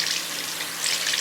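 Water runs and rinses through freshly permed hair from the top down, a brief steady gushing flow close by, with no voices.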